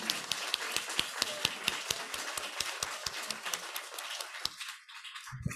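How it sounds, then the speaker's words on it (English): A small audience claps for panelists at a gender pay equity event, the claps coming as a steady run of sharp, quiet, fairly close hand slaps for about five seconds before dying away. "let's give a round of applause to our panelists"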